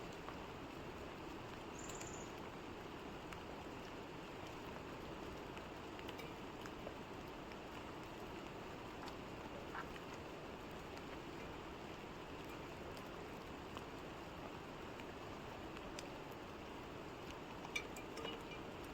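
Rain falls outdoors as a steady, even hiss, faint and continuous throughout, with no one talking.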